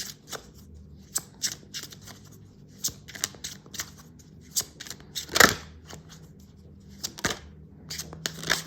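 Tarot cards are shuffled and flipped up close, giving sharp riffling snaps and brisk flicks that come in quick irregular bursts against a quiet background.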